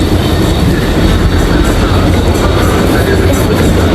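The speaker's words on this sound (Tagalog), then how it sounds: "O, train." Train passing close by during a travel outing, a loud, continuous roar of rolling wheels and rumbling carriages that holds steady throughout.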